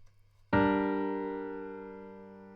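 A spread triad voicing, with the middle note raised an octave, is played back in Logic as one sustained chord that strikes cleanly and rings out alone, slowly decaying.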